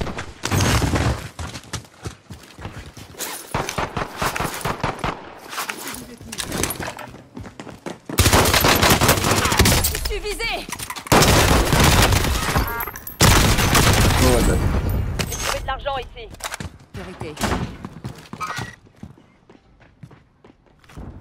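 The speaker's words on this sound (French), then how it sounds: "Cet enfoiré me tire dessus." Enemy gunfire in the Warzone game, with a FARA 83 loadout in play: dense bursts of rapid shots and sharp cracks in clustered volleys across the stretch, loud and close, with a voice talking in between.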